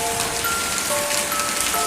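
Heavy rain effect in a radio horror story set in Bandung, a dense, steady hiss of rainfall on surfaces with faint droplet texture, continuous and even with no voices.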